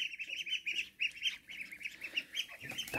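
Muscovy ducklings peep rapidly and repeatedly alongside a calling duck, close by and busy, in a yard setting with no one speaking.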